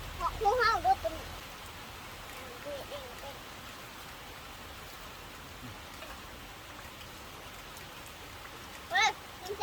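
Steady patter of rain falling on surfaces, soft and even throughout, with brief bits of voices near the start and end.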